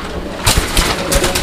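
A pigeon in a breeder's loft, shown while its eyes are displayed, gives a few short low coos in quick pulses close by, with soft rustling between them and no talk.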